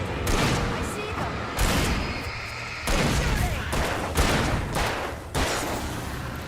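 Gunfire in the video game Alan Wake: heavy bursts of shots in several volleys separated by brief lulls, loud and close, with some voices mixed in.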